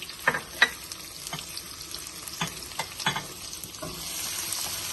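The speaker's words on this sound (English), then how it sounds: "now we're adding in our onions" Onions sauteing in a pan for red pepper rigatoni pasta, giving a steady close sizzle broken by several spatula scrapes and taps, with no talking.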